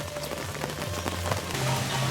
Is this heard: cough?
no